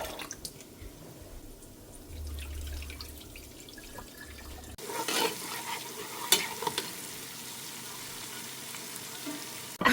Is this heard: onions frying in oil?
yes